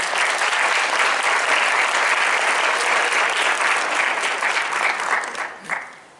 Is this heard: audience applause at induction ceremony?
yes